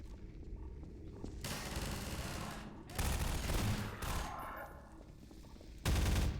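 Gunfire in the video game Half-Life 2 Episode One comes in dense automatic bursts, a long stretch and then shorter bursts separated by brief gaps, loud over a steady game backdrop.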